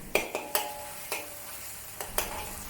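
Mushrooms stir-fried with XO sauce, oyster sauce and white pepper sizzle in a wok, with a quiet steady sizzle broken by several sharp spatula scrapes and tosses, close up and without talk.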